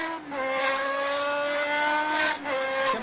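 A motorcycle speeds through São Paulo traffic with a loud, close, high-revving engine whine that holds steady and shifts pitch slightly, dipping briefly near the end.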